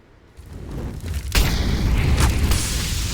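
A grenade explodes in CS:GO on the Vertigo map during a competitive match, a single loud, deep boom that hits sharply and rumbles on, with a second burst shortly after as the roar lingers.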